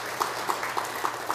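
A church congregation claps at a Sunday worship service, producing steady rhythmic clapping with evenly spaced beats at a moderate volume.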